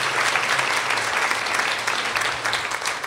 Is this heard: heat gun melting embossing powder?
no